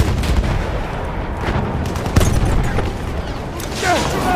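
Grenade blast and rifle fire in the World War I shooter Battlefield 1, Amiens campaign: dense, continuous battle noise with a sharp burst near the middle, scattered shots and a rising whistle at the end, with a voice calling out over the din.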